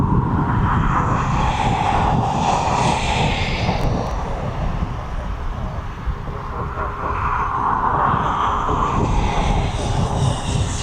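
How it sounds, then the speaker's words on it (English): Ryanair Boeing 737 flying a left-hand training circuit over East Midlands Airport, a loud, steady broadband jet roar that swells and fades slightly across the whole stretch, with no clear talk. "I do like watching these Ryanair training flights. They throw this 737 around, don't they?"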